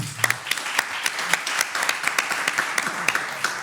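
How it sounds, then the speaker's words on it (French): An audience claps together, a steady wash of many hands with some sharper individual claps standing out, filling the whole stretch without speech. "Applaudissez."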